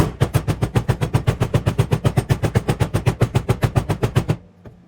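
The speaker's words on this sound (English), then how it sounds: "you'll grab your hammer and just start pounding it in there to make it nice and firm" Rapid, evenly spaced heavy thuds, roughly seven per second, as a hammer packs casting sand into a mold, pounding continuously for about four seconds before stopping abruptly.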